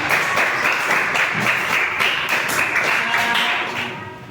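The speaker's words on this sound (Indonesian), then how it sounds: "Beri tepuk tangan untuk kelompok 2." A fifth-grade class applauds a student group in a classroom coding lesson: a steady, dense wash of clapping hands that holds for about four seconds and then tapers off near the end.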